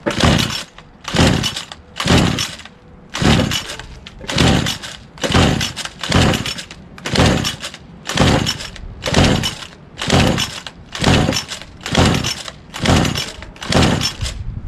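Twelve or thirteen loud, evenly spaced pull-cord strokes on a Craftsman 27cc two-stroke weed trimmer, each a rasping whir of the recoil starter, with the engine never catching.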